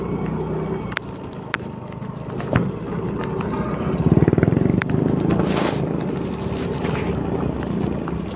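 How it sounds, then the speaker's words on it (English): A motorcycle passes outdoors with a rough engine drone that swells and fades over several seconds, mixed with wind buffeting and scattered clicks. "Bike coming."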